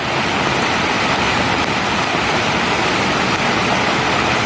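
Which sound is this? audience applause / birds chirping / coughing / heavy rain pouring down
heavy rain pouring down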